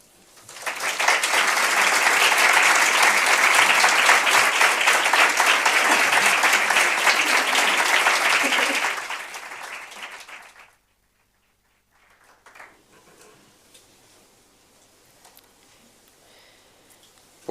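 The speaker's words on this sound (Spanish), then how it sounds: "Pues que sirvan estos aplausos" Loud applause from a large crowd at a religious weekend meeting fills the first nine seconds, then fades out into near silence with faint room noise.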